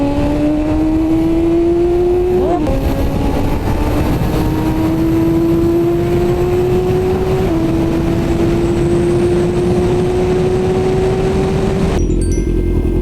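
A BMW S1000RR sport motorcycle with a full exhaust system revs hard and steadily, its loud, close engine tone climbing through each gear with brief dips at shifts, running continuously without any voices.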